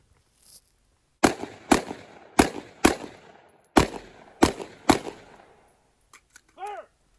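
Loud, sharp gunshots fired at a two-gun shooting match stage with rifle and pistol targets, seven distinct reports spaced about half a second apart in an uneven rhythm, followed by a few faint clicks and a brief tonal ring.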